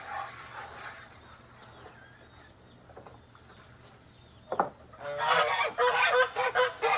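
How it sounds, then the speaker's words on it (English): Geese honking in an outdoor farmyard during feeding and watering, a burst of loud, harsh honks arriving near the end after quieter background calls. "Papa Goose, Papa Goose, Papa."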